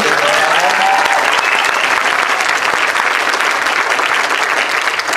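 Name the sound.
large audience applause at event in Wichita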